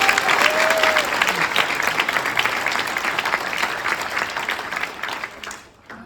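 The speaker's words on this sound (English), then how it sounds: "So I want to give you all a round of applause." Guests at a gala fill the room with steady, loud applause, a dense wash of clapping that fades out over the final second.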